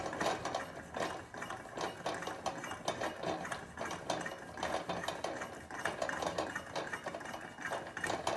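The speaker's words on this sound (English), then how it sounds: "And then we pump it until we start to feel" Hand pump strokes pressurizing a fuel lantern, a quiet, steady series of rhythmic pumping pulses close by with no talking.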